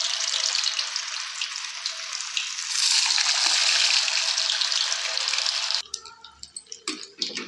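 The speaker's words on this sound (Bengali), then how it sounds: "একে একে সব পনির ভেজে নেব।" Paneer pieces frying in hot oil, a loud continuous sizzling hiss that swells midway, then breaks into sputtering crackles and a few clinks as it settles.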